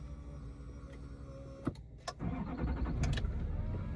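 A diesel pickup truck with an L5P Duramax engine cranks over and catches, two brief starter bursts giving way to a steady, loud, rumbling idle close by.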